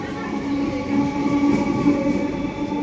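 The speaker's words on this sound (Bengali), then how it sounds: "চলে এসছে তো ট্রেন" A train pulls into Kulpi station with a loud, close, steady rumble and sustained tonal hum of railcars rolling along the platform.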